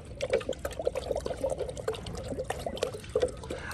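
A spoonful of powder being stirred into water, a steady close sloshing and clinking swirl with repeated liquid splashes, fairly quiet with no talk.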